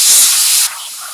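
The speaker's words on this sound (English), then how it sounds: "And I'm spraying it through so I get that greenish blue color." Close, loud hiss of blue paint being sprayed onto glass, a steady rush that drops abruptly partway through to a softer continuing spray.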